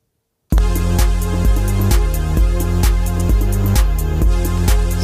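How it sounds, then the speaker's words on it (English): A dry synth pad with no effects sustains a single chord, fading in after a brief silence and held loud and steady with a slight rhythmic pulse, heard alone. "the pad doesn't have any effects on it, and it's just playing one chord"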